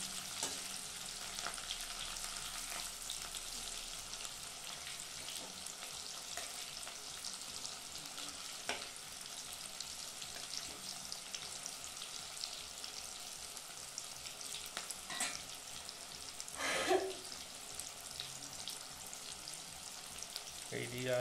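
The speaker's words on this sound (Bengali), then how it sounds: "এই দিয়ে আলুগুলো ভাজা হচ্ছে" Boiled potatoes frying in a pan for chicken biryani, a steady soft sizzle lasting throughout with occasional stirring scrapes, fairly quiet and with no talk.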